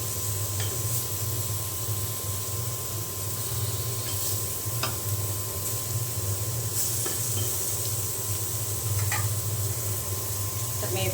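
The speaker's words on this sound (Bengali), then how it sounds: "আর একটু পোড়া পোড়া করি ভাজিটা করলে আমার মনে হয় বেগুন ভাজি খেতে ভালো লাগে" Eggplant (brinjal) slices fry in a little oil in a pan, giving a continuous close sizzle with small crackles over a low steady hum.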